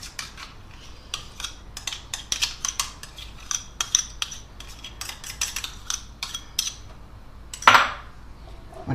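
Spoon clinking and scraping against a pan as mustard and sour cream go into beef stroganoff off the heat: a busy scatter of light metallic taps and clinks, close, ending with a louder scrape.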